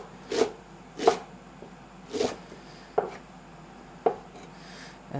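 A knife chopping fresh parsley on a cutting board, five or six distinct close thuds spaced roughly a second apart over quiet room tone.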